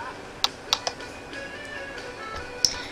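Someone types on a computer keyboard while filling out an online sign-up form: a few sharp, close key clicks, then softer scattered taps at a quiet level, with no speech.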